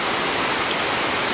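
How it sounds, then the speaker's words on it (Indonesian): Heavy rain pours down in a dense, loud, unbroken hiss that fills every moment, with no voices heard over it. "Ini hujan, jadi suara saya harus saya keraskan karena hujannya deras sekali"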